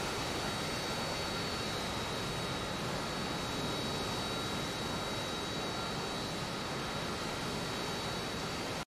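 A Harrier jet roars steadily in the DCS flight simulator, a constant broadband engine rush with a thin high whine running throughout and no voices.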